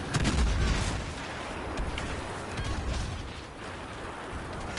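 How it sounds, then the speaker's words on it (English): An airstrike in Star Wars Battlefront sets off a heavy, booming explosion at the start, followed by continuous rumbling blasts and distant gunfire in a noisy battle. "there's a big airstrike happening right here"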